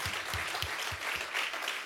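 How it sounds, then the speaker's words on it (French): Audience applause at a business conference, a dense, continuous wash of clapping from a large crowd heard at a distance, with soft low thumps beneath it. "Je pense qu'on peut l'applaudir également."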